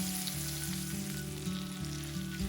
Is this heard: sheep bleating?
no